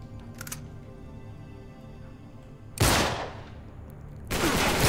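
Two loud, sharp gunshot blasts from Uncharted 3 gameplay, each with a decaying tail, separated by quiet ambient hum, plus a faint earlier pop.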